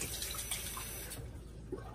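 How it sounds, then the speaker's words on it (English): Tap water runs into a bathroom sink and spills over from a small shaving bowl held under the faucet, a steady quiet splashing that thins out near the end. "So I'm just letting the water run in here and spill out"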